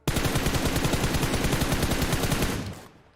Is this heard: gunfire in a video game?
yes